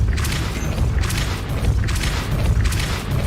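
A Depulso force spell is cast in Hogwarts Legacy, a loud, sustained whooshing blast with deep rumbling low end and rhythmic surges, close and continuous with no voices over it.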